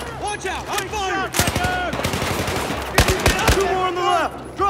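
Bursts of automatic and single-shot gunfire in the Battlefield 4 video game crack loudly, mixed with shouting voices, repeated rapid volleys dominating the scene.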